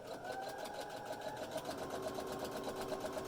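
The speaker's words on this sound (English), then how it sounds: "all I'm doing is stitching the edges together" A sewing machine runs steadily, stitching together the edges of a homemade fabric facemask with a fast, even whirring rhythm that stays close and unbroken throughout.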